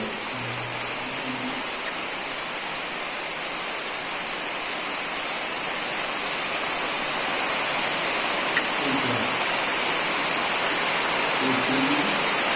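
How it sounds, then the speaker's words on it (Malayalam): Dense, constant roar of heavy rainfall, loud and unbroken throughout, with only faint hints of anything else beneath it. "അപ്പൊ പുറത്താണെങ്കിൽ നല്ല മഴ വരുന്നുണ്ട്."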